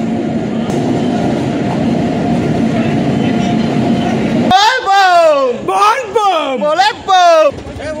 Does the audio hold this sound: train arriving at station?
yes